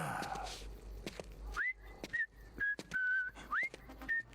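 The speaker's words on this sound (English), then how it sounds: "Why would you start whistling?" A person whistles a short tune of several clear, sustained notes with brief gaps between them, fairly close and quiet, with faint thumps and scuffs around it.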